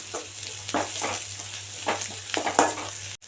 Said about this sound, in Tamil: இப்போது பூண்டை சேர்த்திட்டு நல்லா வதக்கிக்கலாம்